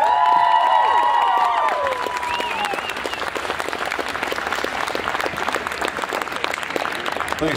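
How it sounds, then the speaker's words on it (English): Convention crowd at Christchurch Armageddon Expo applauding guest Manu Bennett, loud dense clapping and cheering that holds strong throughout, with a brief whistle-like tone early on. "A big round of applause"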